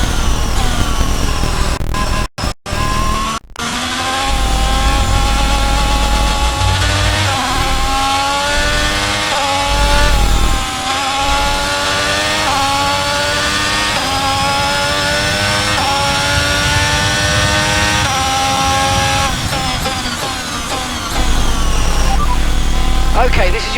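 Formula 1 race car engine in F1 22 on a final lap in worsening weather, loud and close, revving up and down through repeated gear changes with brief cut-outs early on; a voice talks over it at times.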